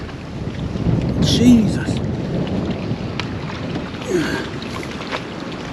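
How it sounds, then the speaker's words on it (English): Steady gusty wind buffets the microphone at a lake during carp fishing, a dull continuous roar that swells and fades, with a man's brief exclamation heard over it. "Oh dear, the wind. It's turning the net over."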